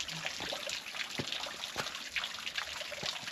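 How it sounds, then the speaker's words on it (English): A small rain-fed waterfall trickles steadily outdoors in winter, a soft continuous splashing wash with faint intermittent drips, fairly gentle rather than roaring. "We've had enough rain to make a little waterfall."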